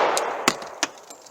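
A .45 ACP pistol firing a 185 grain bullet, one sharp report followed by a second about a third of a second later, both loud and close over steady background noise.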